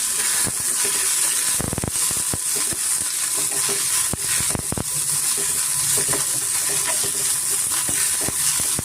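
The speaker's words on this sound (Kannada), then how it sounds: "ಇದಕ್ಕೆ ನಾನು ಕೊತ್ತಂಬರಿ ಮತ್ತು ಕರಿಬೇವಿನ ಅಷ್ಟೇ ನಾನು ಸ್ವಲ್ಪ ಎಣ್ಣೆನಲ್ಲಿ ಚೆನ್ನಾಗಿ ಫ್ರೈ ಮಾಡ್ಕೊತೀವಿ" Coriander and curry leaves fry in a little oil for a hotel-style green mutton sambar, giving a close, loud, continuous sizzle and hiss with occasional sharp stirring scrapes and taps against the pan.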